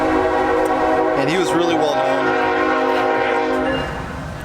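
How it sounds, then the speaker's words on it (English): A train passing near a house sounds a loud, sustained horn over a steady rail rumble that fades toward the end, while a person keeps talking underneath. "sorry about the railroad, guys, passes by my house all the time"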